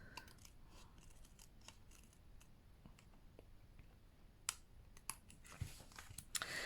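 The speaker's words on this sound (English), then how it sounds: "I'm just going to take my scissors and I'm just going to, from the back, remove any little excess pieces." Scissors snip excess paper from the back of a handmade card, with a series of short, sharp cuts that grow more frequent and louder toward the end over a quiet background, with no talking.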